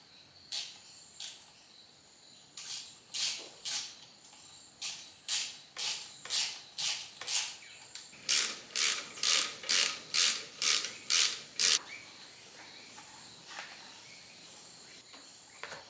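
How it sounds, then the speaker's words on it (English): A ratchet clicks in quick repeated bursts, speeding into a long even run, as the engine fan and pulleys are refitted on a Toyota 1HZ diesel during a rebuild, close and loud. "I'm just about to put the fan back on for a second time"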